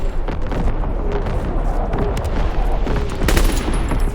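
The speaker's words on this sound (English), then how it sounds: "Incoming enemy artillery!" Enemy artillery fire in Call of Duty WW2 Team Deathmatch on the Gustav Cannon map, a dense rumbling barrage of booms and crackling explosions, loud and continuous.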